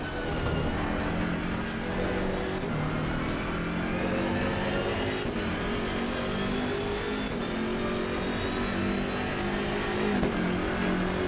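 A BMW M6 GT3 race car in Assetto Corsa Competizione at Zolder, its engine droning steadily and loudly throughout with small rises and dips in pitch as it revs, no talk over it.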